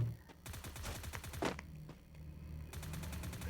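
Rapid automatic gunfire from a ranked 4v4 online shooter match, dense bursts of shots crackling nearly throughout with brief pauses, loud and close.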